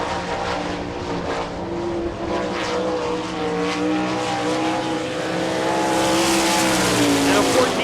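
A World of Outlaws sprint car at Rossburg, Ohio on a qualifying lap, its engine roaring steadily and rising toward the end, with a commentator talking over it.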